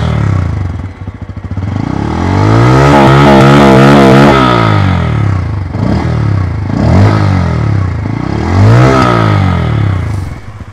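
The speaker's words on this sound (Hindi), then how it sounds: "मैं रेव करता हूँ, आइडलिंग पे कुछ ऐसा साउंड है, और अगर रेव करते हैं तो देखिए कैसा वॉइस आएगा," Bajaj Pulsar N160 motorcycle exhaust recorded close up, idling and then revved hard several times, rising to a loud sustained roar before dropping back, with repeated blips of the throttle, no talk over it.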